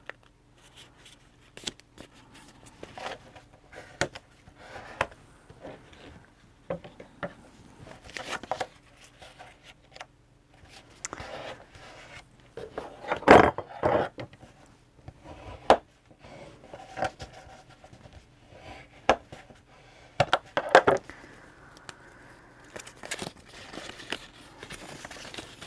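Paper being folded in half repeatedly in an art studio, producing scattered crinkles, rustles and sharp creasing swipes at an irregular pace, close and mostly quiet between bursts.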